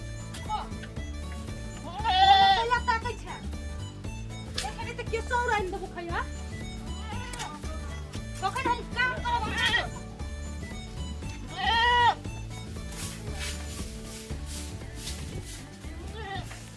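Goats bleat repeatedly in a rural Maithili household setting, several wavering calls rising over a constant loud music track, with occasional voices in the mix.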